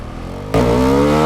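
Husqvarna Svartpilen 401 motorcycle, a Duke-based single, accelerating hard in first gear: the engine jumps from a steady idle to a loud, rising rev that keeps climbing, close and alone with no talk.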